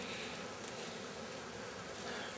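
Honey bees swarming around hatched queen cells hum and drone continuously at close range, a dense steady buzz with no voices over it.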